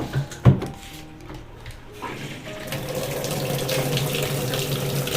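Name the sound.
water filling a new washing machine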